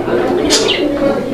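A male pigeon coos close by as it circles its mate, a short soft throaty call over faint background noise.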